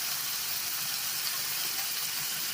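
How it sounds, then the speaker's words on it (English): Food sizzles steadily in a hot pan, a constant crackling hiss heard close up with no talking. "Listen to that sizzle."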